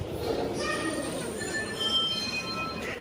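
A MEMU passenger train from Bengaluru stands at a station platform, with a steady rumble, faint metallic squeals and clinks over a low hum of crowd noise.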